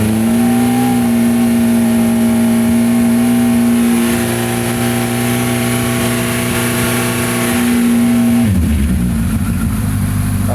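A Honda CB1000 MK1 motorcycle with its exhaust baffles removed runs loud and close, a steady deep engine drone that shifts sharply near the end as the throttle changes.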